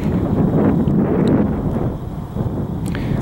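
Gusty wind buffets the microphone with a low, rumbling roar that eases slightly toward the end, no voices present.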